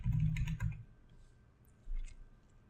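A short burst of soft keystrokes on a computer keyboard while entering a password, a quick cluster of close clicks followed by a pause and one or two more taps, fairly faint.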